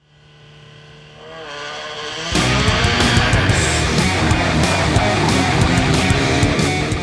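Six motorcycles rev inside a circus Globe of Death act in a ring built on a city velodrome. A rising engine hum swells into a loud, dense, continuous roar that fills the rest of the clip.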